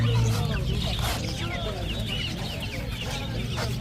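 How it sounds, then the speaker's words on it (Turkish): Three-month-old Sebright hens and roosters cluck busily at a bird market in Adana, overlapping chatter close by with a steady low background hum. "burada zibrit tavuklar var 3 aylık. Aynı şekilde horozlar var 3 aylık."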